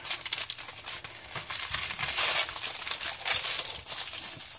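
A package wrapped in a plastic bag being unwrapped by hand, with close, continuous crinkling and rustling of the plastic in irregular bursts, no voices.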